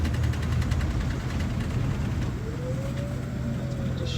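A car engine on a test drive hums steadily and then shifts into a better gear, with a rising and falling whine near the end over low rumbling road noise and no speech.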